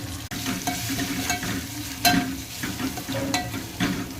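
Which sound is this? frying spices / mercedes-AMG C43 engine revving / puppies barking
frying spices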